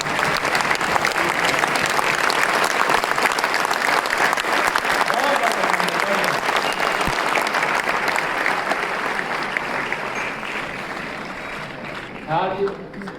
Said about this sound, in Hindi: खड़े होकर के ताली बजा दीजिए।